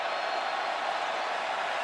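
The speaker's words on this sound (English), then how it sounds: "with the crowd in full voice" A packed football stadium crowd roars steadily during the Baylor Bears versus Texas Longhorns game, a dense, continuous wall of cheering at even loudness with no break.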